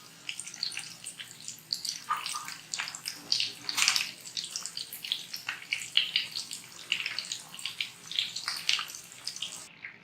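Vegetable koftas sizzling in hot oil in a pan for a restaurant-style kofta curry, a steady loud crackle and hiss with bursts of spattering throughout.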